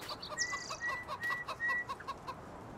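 Animated chickens in a video game chicken yard cluck in a quick, regular series of short, clear calls, close and alone.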